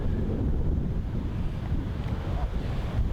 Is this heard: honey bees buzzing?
no